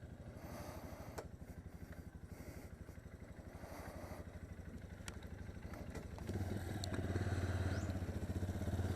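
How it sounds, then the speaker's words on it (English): A motorcycle engine idles steadily before a ride on Tablas Island in the central Philippines, a close, even low putter that swells a little louder toward the end, with no talk over it. "He's just down the back getting his motorcycle ready."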